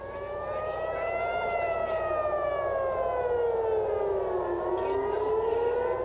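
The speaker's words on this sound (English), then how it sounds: "we got air raid sirens again in Tel Aviv" A loud air raid siren in Tel Aviv wails continuously, its pitch slowly sliding down and then rising again, with several layered tones sounding together.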